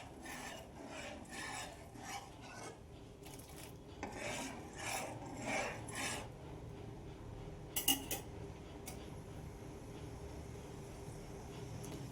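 Vinegar is stirred into sugar syrup in a pan, with soft repeated rasping scrapes of a spoon across the pan and a couple of light clinks over a low continuous background hiss.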